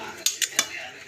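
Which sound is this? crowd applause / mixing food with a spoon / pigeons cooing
mixing food with a spoon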